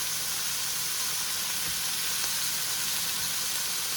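Beef strips for stroganoff fry in a hot pan with a loud, steady, even sizzle and hiss that holds without pause for several seconds, with no talking.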